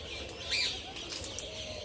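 Birds in a park in Islamabad give a few faint, high chirps and tweets over quiet outdoor ambience, with pigeons nearby and a brief bright call standing out near the start.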